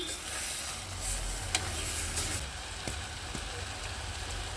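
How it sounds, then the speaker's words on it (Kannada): Food frying in a pan while making a simple biryani, a constant dense sizzle with a few light clicks of a ladle, close and steady. "ಒಂದೆರಡರಿಂದ ಮೂರು ನಿಮಿಷ ಫ್ರೈ ಮಾಡ್ಕೊಳ್ಳಿ"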